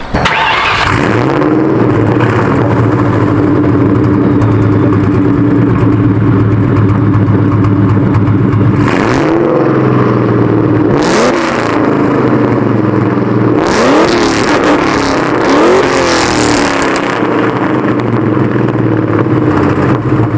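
A loud V8 engine in a Ford Crown Victoria P71 swapped with Mustang GT parts starts and rumbles at idle, then revs hard several times with roaring bursts before settling back.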